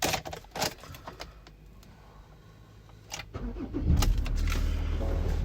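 A 2019 Ford Ranger 3.2 TDCI diesel engine cranks after a few key clicks and catches, settling into a steady close idle rumble.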